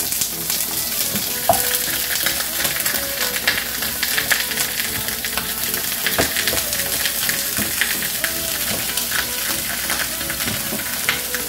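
Meat patties sizzling and crackling steadily in hot oil in a skillet, a dense continuous fry with small pops throughout, no talking.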